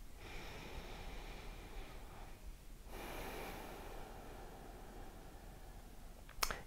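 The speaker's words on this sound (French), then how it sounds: "tu vas te concentrer sur ta respiration" Slow, steady breathing during a morning meditation routine, long soft inhales and exhales filling the quiet, with a sharper brief sound near the end.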